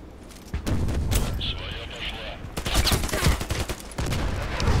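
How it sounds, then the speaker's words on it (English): Gunfire in the online shooter Contract Wars during long-range shooting, with a rapid series of sharp, loud shots and booming reports spread across the clip amid a busy game soundscape. "Let's do some shots from distance."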